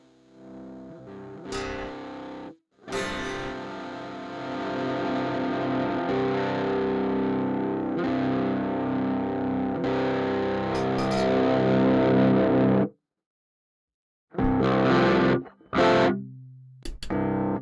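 Electric guitar chords ring out gritty and distorted through a Horizon Devices Precision Drive overdrive pedal, sustained strums followed by a pause and a few sharp, crunchy stabs.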